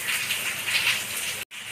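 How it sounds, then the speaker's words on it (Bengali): Heavy rain falling outside a window, a steady broadband hiss that holds for most of the stretch, cuts out briefly, then resumes at the same level. "বাইরে শুরু হয়েছে খুবই বৃষ্টি।"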